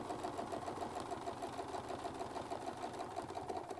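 Sewing machine running steadily through a quilting design on a Westalee Spin E Fex template, a continuous close, even mechanical whir with rapid stitching rhythm and no pauses.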